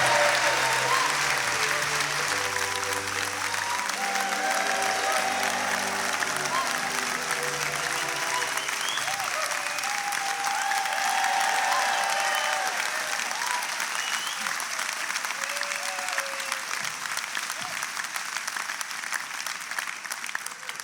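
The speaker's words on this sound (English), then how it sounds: "A big cheer, please, for Mark Kermode and Simon Mayo." A live Christmas show audience breaks into sustained applause, dense clapping mixed with a few cheers that carries on for about twenty seconds and slowly tapers, while a voice speaks faintly beneath it.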